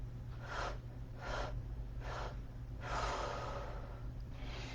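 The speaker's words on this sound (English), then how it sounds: "Breathing into your diaphragm." Slow, deep diaphragmatic breaths drawn in and let out in a guided breathing exercise, with four soft breath sounds spaced about a second apart and a longer exhale near the end, close and gentle over a steady low hum.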